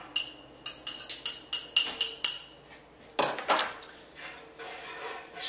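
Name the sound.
stirring basil into garlic in a pot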